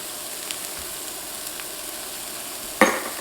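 Shallots and garlic sizzle steadily in a steak pan, a constant close frying hiss with a few faint clinks and a sharper burst of crackle near the end.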